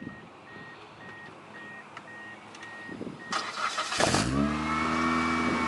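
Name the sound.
Mitsubishi Eclipse engine starting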